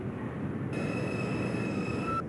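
A New York subway 5 train made of R142 cars runs with a steady low rumble, and a high electric whine cuts in partway through and holds, loud and close from inside the car.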